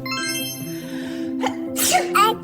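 A baby's small sneeze-like burst copying an adult's sneeze, following a sustained voiced tone, with two short breathy bursts near the end, close and fairly loud.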